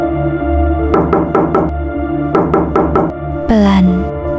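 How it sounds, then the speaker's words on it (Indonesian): Soft, regular knocking on a car's rear window as a horror story sound effect, two quick series of four or five raps over a low droning music bed, ending in a brief rising whoosh. "suara ketukan pelan terdengar dari jendela belakang"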